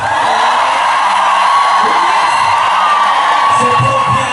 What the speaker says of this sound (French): Pousse le cri de joie.